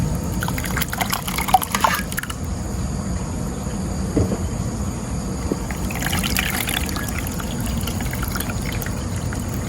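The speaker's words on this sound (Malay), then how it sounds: "tuangkan santan ni" Coconut milk (santan) is poured while making kuih lapis, with two short splashing pours separated by a quieter stretch of low background noise.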